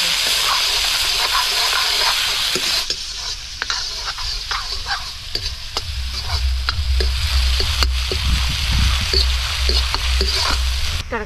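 Steady sizzling of mustard seeds frying in hot oil for a tempering, a continuous bright crackle with scattered pops and a low rumble joining partway through.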